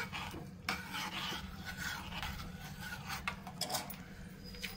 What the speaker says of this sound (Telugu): ఇప్పుడు ఒకసారి చక్కగా ఇలా కలుపుకోండి.